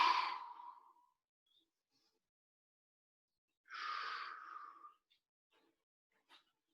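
Deep breathing through the diaphragm during a home HIIT workout: one long, airy exhale, then a second full breath a few seconds later, near and fairly loud, followed by faint small sounds.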